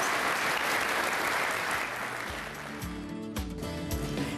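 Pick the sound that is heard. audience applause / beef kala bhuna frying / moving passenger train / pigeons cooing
audience applause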